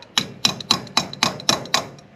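Eight sharp, evenly spaced metallic taps as a wheel dust cap on a 1972 Chevrolet Nova is knocked into place with a makeshift hammer, close and clear with no talk.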